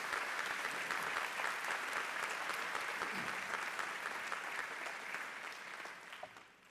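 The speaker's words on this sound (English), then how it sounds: "A round of applause for our lifers, kids of alums, and 20-plus parents." A commencement crowd at Heritage Hall's Class of 2024 ceremony applauds for families and lifers, a sustained wash of many hands clapping at a distance that tapers off near the end.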